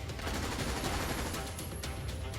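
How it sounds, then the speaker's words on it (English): Assault rifle fire in the video game EDF5: a steady stream of fairly quiet, rapid shots crackles over a constant low rumble, with several brighter reports standing out near the end. "for now, we're going to start with the assault rifle"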